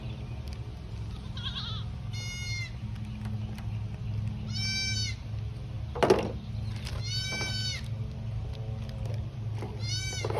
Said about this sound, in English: these goats all these goats do is just holler all day